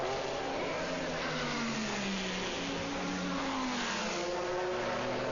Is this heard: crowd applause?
no